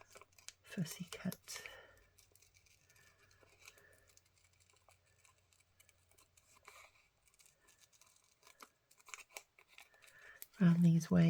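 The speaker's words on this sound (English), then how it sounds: "get my little sharp scissors" Quiet snipping of small sharp scissors fussy-cutting paper for a collage, soft intermittent cuts with faint rustling and a few whispered words, then a louder voice at the end.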